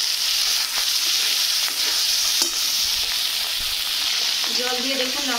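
Poppy seed paste and water sizzle and hiss loudly in a frying pan while being stirred, a steady close crackle with a few scraping strokes and no talking.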